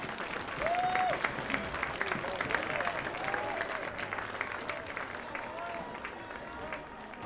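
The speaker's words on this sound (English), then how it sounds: "Join me and Ironhead Roofing in a round of applause for these brave men and women" Spectators at a baseball game clap in a sustained round of applause, moderately distant, with a whistle or two and voices mixed into the crowd noise.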